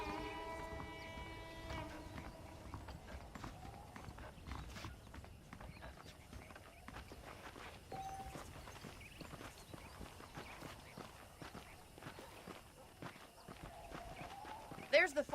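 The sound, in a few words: horse hooves in Red Dead Redemption video game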